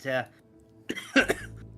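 A couple of sharp coughs in quick succession, close and loud, following a short burst of voice.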